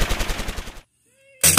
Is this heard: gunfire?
yes